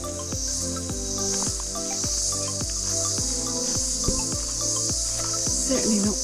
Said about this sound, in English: there's a really high pitched ringing